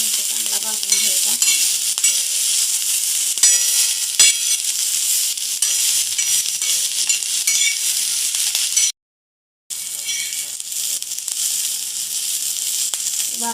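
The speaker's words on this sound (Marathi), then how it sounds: "तेल टाकून 2 मिनिटं भाजून घ्यायचं. 2 मिनिटं चांगला भाजून घ्यायचा." Thecha, a chili paste, roasts in oil in a pan with a steady bright sizzle, punctuated by scraping stirs and light clinks of a utensil, and a brief gap of silence partway through.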